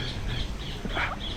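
Harsh, repeated bird squawks in a large free-flight aviary in Kuala Lumpur, several rasping calls in quick succession over steady ambient background noise.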